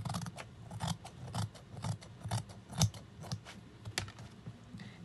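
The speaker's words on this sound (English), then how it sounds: "And then I cut it out." Scissors cutting out a dress pattern, a close, steady rhythm of crisp repeated snips, roughly two per second, with no talking.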